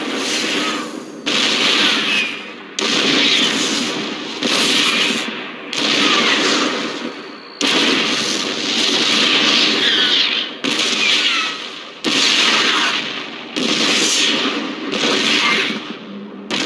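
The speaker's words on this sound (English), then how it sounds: "These babies will knock those cannons down from a nice," Siege tank cannon fire in the StarCraft 2 video game, Wings of Liberty campaign, comes as a long series of loud, heavy blasts and rumbling volleys in repeated bursts with brief gaps between them.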